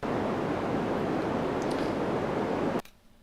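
A steady wash of synthesized red noise, dense and deep with a rumbling, muffled hiss, continuous and loud before cutting off abruptly near the end.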